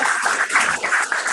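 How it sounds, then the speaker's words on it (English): Brief round of clapping for two students at the close of an online Zoom classroom session, a short thin patter of hands heard over a call, fairly loud and alone. "Big round of applause for Simone and Sonia."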